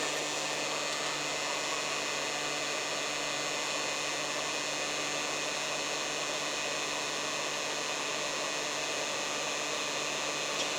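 Hot-air heat tool blowing under a Samsung UN40EH5300 LED TV circuit board to melt solder, a steady, even rushing whoosh with a faint tonal hum, constant throughout and unaccompanied by speech.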